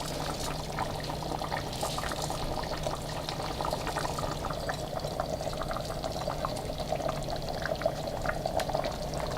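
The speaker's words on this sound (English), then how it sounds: "we're gonna drain this water and quickly put the rice in the pot" Hot water drained off rice for Uzbek lamb plov, a steady continuous pouring rush with faint bubbling, close and even in level throughout.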